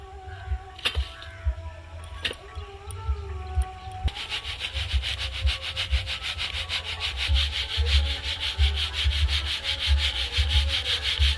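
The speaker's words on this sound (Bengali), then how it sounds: "এই বাটির এক বাটি আমি চিনি গুঁড়ো করে নিয়েছি এগুলো আমি চালিয়ে নেব" Powdered sugar being sifted through a sieve into a medium bowl for an orange cake, a steady scratchy rubbing that starts with a few light taps, then becomes a continuous rapid shaking rasp, close and fairly quiet.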